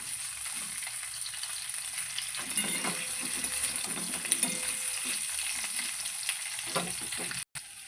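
Flat broad beans cut into long strips fry in hot oil for a vegetarian dish, producing a steady close sizzle and crackle with occasional stirring scrapes.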